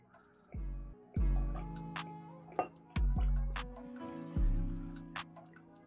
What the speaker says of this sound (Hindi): चलो जी पानी डालते हैं इसमें थोड़ा सा.